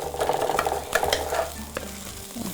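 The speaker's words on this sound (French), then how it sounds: "Donc, fait revenir la pâte de tomate." Tomato paste stirred and frying in a pan, a close, soft sizzle with scraping spoon strokes in quick bursts.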